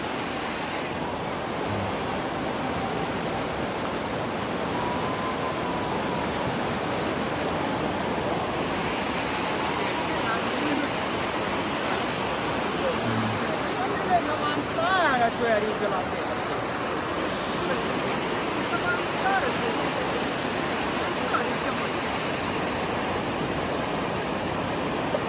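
A swift river current rushes steadily beside a washed-out bridge at Koto Rawang, a dense, unbroken roar of flowing water that fills the whole stretch at constant loudness.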